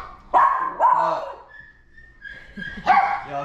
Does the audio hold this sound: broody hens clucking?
no